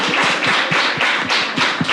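Warm applause for teachers during a live-streamed discussion, a dense, bright wash of many hands clapping close and continuously, with rhythmic low thumps running underneath.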